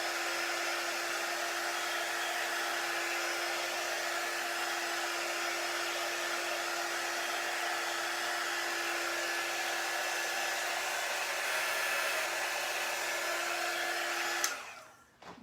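A hair dryer blows steadily with a constant whooshing hum while drying a reusable Chalk Couture board, loud and close for about fourteen seconds before switching off abruptly.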